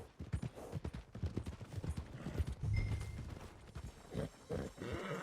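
Horse hooves clip-clopping steadily in the Red Dead Redemption 2 video game, a busy close rhythm mixed with other game sounds and no talk.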